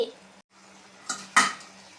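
Jaggery sweet semiya with cashews, almonds and raisins stirred in a pot: a low steady hum with a few scraping clinks of a spoon against metal, close and moderately loud.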